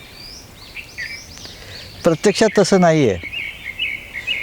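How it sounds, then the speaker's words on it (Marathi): Birds chirp and twitter softly in the background, with someone speaking briefly over them in the middle. "पार्श्वसंगीत पक्ष्यांचा आवाज आहे"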